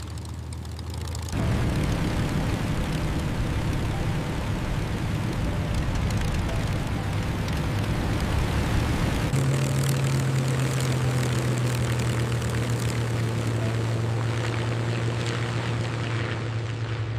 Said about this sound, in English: Mustang is cleared for takeoff